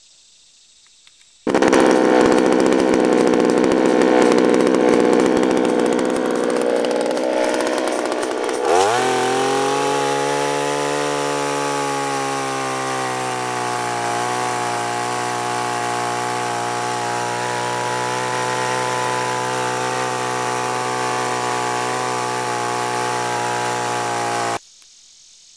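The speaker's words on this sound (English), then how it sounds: "The blade is getting dull on this saw, but we've got new fuel in it now, and we'll see if we can get it started" A large chainsaw fitted with a dull chain and fresh fuel starts, then runs loud and steady for about 23 seconds in a backyard while cutting a big tree. The engine revs high, then settles into a steady, even idle.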